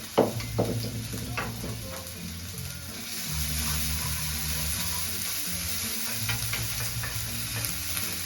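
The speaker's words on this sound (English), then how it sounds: "Lovely little sizzle." Quiet, steady sizzle of onions in a frying pan, with a few stirring knocks at the start and a faint background hum.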